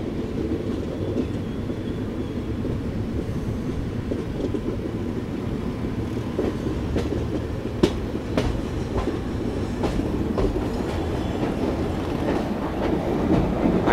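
Night Queen Express passenger train rolling on rails between Bengaluru and Mandya at restricted caution speed, a steady loud rumble with clattering wheel clicks and a few sharp rail knocks throughout.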